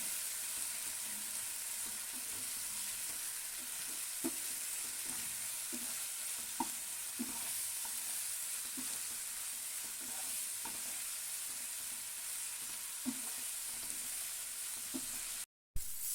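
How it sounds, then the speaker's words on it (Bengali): Spice masala for a Bengali-style chicken and potato curry fries quietly in oil, a faint steady sizzle with soft, occasional clinks and scrapes of stirring throughout. "এবার একটু ভাজবো ভালো করে, কষিয়ে নেবো মশলা।"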